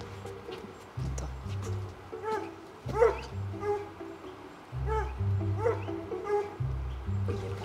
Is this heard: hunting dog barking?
yes